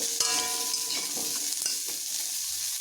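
Cut pumpkin pieces sizzle steadily in a hot pan, with close, soft stirring scrapes running through the constant frying hiss.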